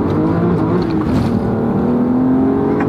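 Manual Aston Martin DBS engine running at steady high revs, a loud continuous droning roar close by with no talk over it.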